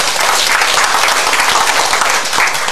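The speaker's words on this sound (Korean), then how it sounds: "박수 주십시오." Dinner show audience applauding a guest introduction, a steady, dense wash of many hands clapping throughout, loud and close with no talk over it.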